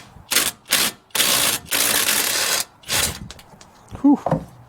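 A socket wrench fitted with a wobble socket works on the shock absorber bolts of a 230,000-mile Jeep, giving loud, close bursts of rapid ratcheting separated by short pauses, with a brief voice near the end.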